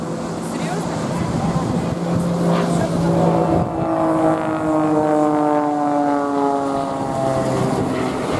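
A propeller aeroplane at the Blackpool Air Show, a loud continuous engine drone whose pitch bends as it passes, with talk over it.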